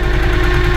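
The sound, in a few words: loose speedometer RPM cable rattling on Honda Ascot motorcycle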